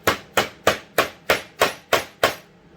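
Seven sharp, evenly spaced hammer blows drive a punch through leather at close range. The strikes are crisp and regular, about three per second, and then stop.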